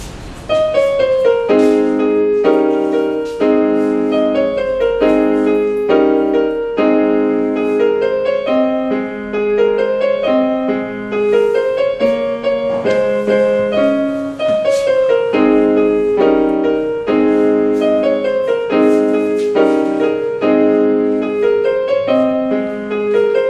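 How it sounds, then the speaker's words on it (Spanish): Piano playing a steady, flowing melody with chords, continuous and fairly loud, with no voices. "y el piano de Danis suena así"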